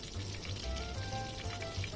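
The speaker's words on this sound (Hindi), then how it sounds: "चिकन जो है वो 10 मिनट में फ्राई हो जाएगी।" Breaded chicken breast sizzles steadily in hot oil in a pan, a dense continuous crackling frying sound, close and moderately loud with no speech.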